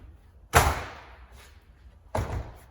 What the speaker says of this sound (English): Now you can take your door handle, open up the door,